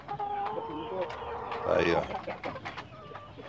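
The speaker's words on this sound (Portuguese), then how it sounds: "Essa galinha aqui" A hen in a cockfighting-rooster stable clucks at feeding time, a soft, close cluck rising briefly in the middle under a man's short spoken words, over steady farmyard background.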